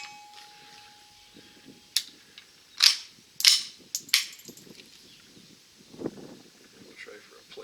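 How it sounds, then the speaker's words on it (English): Shots from a Stevens Model 87 rifle fired at an 8-inch steel plate, several sharp cracks spaced a second or so apart, with quieter handling noise between them. "That's your 8-inch plate out there that I'm shooting"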